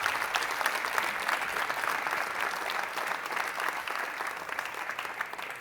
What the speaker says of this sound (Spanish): Pues un aplauso para nuestros ponentes, Agustín y Liliana.